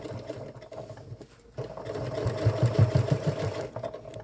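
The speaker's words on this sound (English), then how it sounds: "I'm having absolutely no issues being able to sew this on." A sewing machine stitches a decal onto prepped clothing fabric, a steady close mechanical whir with rapid needle chatter that picks up and grows louder after a brief pause partway through.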